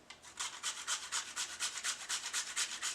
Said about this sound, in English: I'm going to grate off another 1/4 of this nutmeg.